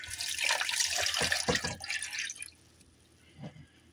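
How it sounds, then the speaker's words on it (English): Lemonade pours into a cute unicorn cup already holding fruit for a dragon fruit mango frappe, a bright splashing stream for about two and a half seconds, then stopping, with one faint trickle near the end. "We're going to be taking our ridiculously cute unicorn cup and pouring our lemonade in there."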